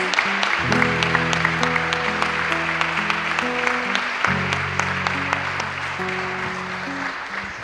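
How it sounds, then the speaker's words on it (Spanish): A church congregation claps and applauds at length, a dense, continuous patter of many hands mixed with sustained organ or keyboard chords underneath. "Un aplauso, muchas gracias."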